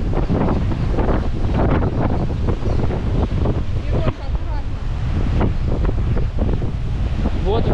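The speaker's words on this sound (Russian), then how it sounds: "Еще на пару секунд вам покажу этот бушующий океан." Stormy ocean at the coast of Sri Lanka near Matara, a loud, continuous roar of crashing waves with heavy wind buffeting the microphone throughout.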